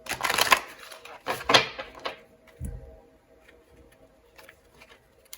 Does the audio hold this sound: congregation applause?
no